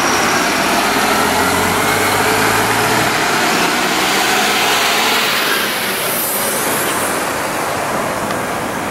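A Nacional intercity bus pulls out of the Tietê bus terminal in São Paulo. Its steady engine rumble and broadband road noise run loud and close throughout, with no talking.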